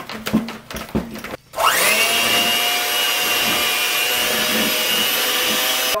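An electric mixer whips a batch of hot cocoa whipped soap batter. A few knocks and clatters come first, then the motor starts and holds a loud, steady high whine to the end.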